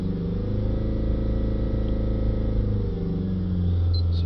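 A Honda diesel car with a DPF emissions fault, its engine held steady around 3000 RPM, gives a loud, even droning hum up close with a slight shift near the end.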